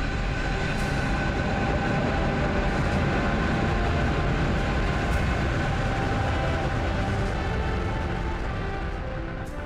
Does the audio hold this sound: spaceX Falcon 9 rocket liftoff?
yes